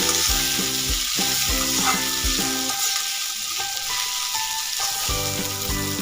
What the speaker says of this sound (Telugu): ఒకసారి మిక్స్ చేస్తున్నాం వెజ్జెస్ అన్నీ కూడా పాస్తాకి పట్టేటట్టు